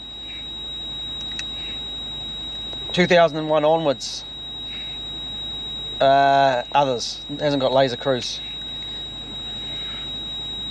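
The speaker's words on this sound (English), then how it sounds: "Beeping's kind of annoying." A steady high-pitched electronic warning beep runs continuously throughout inside a 170-series Toyota Crown Majesta with a 1UZ-FE engine and an ABS fault, while someone talks in short bursts nearby.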